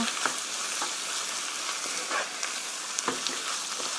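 Tomato paste, chopped tomato and onion are stirred together in a hot pan for a tofu meat sauce, with a soft continuous sizzle broken by light, irregular spatula taps and scrapes.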